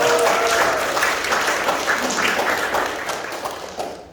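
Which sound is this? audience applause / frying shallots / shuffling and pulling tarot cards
audience applause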